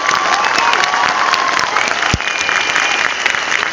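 A big crowd at a direct selling company rally in West Bengal applauds leaders and their teams, with sustained loud clapping and some cheering filling the hall and one brief thump partway through.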